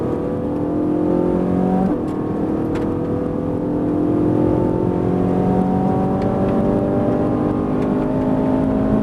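A Ferrari 458 Italia accelerating hard on the Fay-de-Bretagne track, its engine note climbing steadily in pitch through repeated pulls. It is loud, close and continuous, with no voices.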